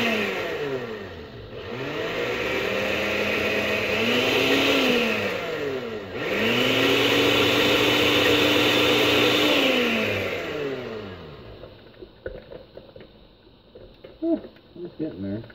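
A kitchen machine chopping shawarma ingredients whirs loudly in two long, sweeping runs whose pitch rises and falls, then stops; a voice talks afterward.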